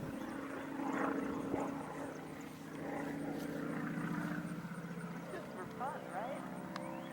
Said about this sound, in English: there was a full-scale Hollywood Zero nearby, trying to upstage my flying